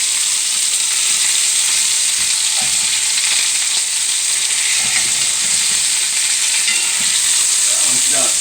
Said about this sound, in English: when you're frying it like this